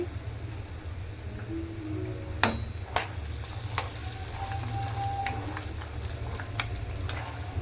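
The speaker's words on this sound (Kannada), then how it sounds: "ಆಯಿಲ್ ಕಾದಿದೆ ಒಂದು ನೂರು ಗ್ರಾಮಷ್ಟು ಕಡಲೆ ಬೀಜ ಹಾಕೊಳ್ತಾ ಇದ್ದೀನಿ" About a hundred grams of peanuts fry in hot oil in a pan for a puliyogare gojju tempering, making a continuous close sizzle with scattered sharp pops and crackles and one louder clatter early on, with no talking.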